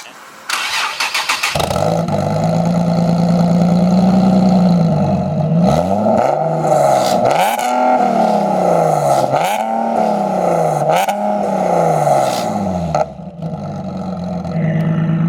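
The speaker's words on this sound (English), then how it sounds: "let's crank it up real quick and just get a quick exhaust clip" A supercharged Nissan 370Z engine cranks and catches, then the exhaust revs hard several times in rising and falling bursts before settling back to a rumbling idle.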